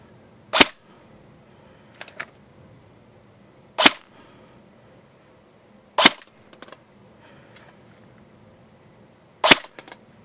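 Shots from a G&G GR16 airsoft rifle with an inner barrel swap, fired over a chronograph with .20 g BBs: four sharp, loud cracks spaced a few seconds apart, with faint handling clicks between them and no talking.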